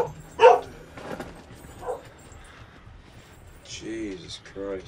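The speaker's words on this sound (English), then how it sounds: "Stop barking, you made me jump and shit." A dog named Patch barks in the horror game Outlast, a sharp yelp near the start followed by a couple of softer barks and whimpers, with someone talking over the later part.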